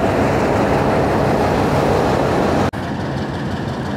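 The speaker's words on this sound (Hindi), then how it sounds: "ये वाली कोच ले आया है लोकोमोटिव इसके बकिया ट्रेन के साथ कपल होने के लिए" A locomotive brings a railway coach along to couple it to the rest of a passenger train, giving a loud, steady, close rumble that breaks off once in a brief dropout before continuing.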